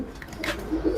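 Pigeons coo softly in a loft, a short low burble with a few faint chirps, heard close and alone.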